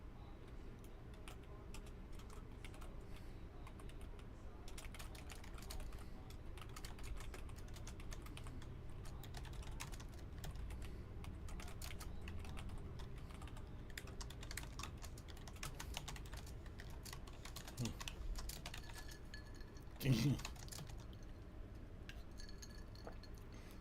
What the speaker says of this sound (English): I've got the sound on while I'm typing.